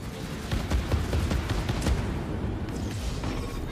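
Explosions and gunfire-like blasts in the Chorus space combat game on PS5, dense rumbling booms and crackling bursts layered continuously and loud throughout.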